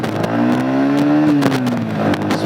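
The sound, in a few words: Yamaha XSR155 motorcycle engine pulling away in gear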